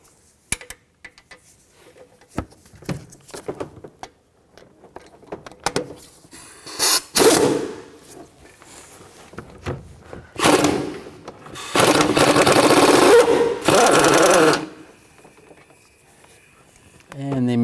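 A 15 mm socket and ratchet removing nuts from the top of the exhaust manifold on a 2007-2016 Chevy Traverse, with scattered metallic clicks and scrapes followed by longer bursts of harsh broadband noise, up close.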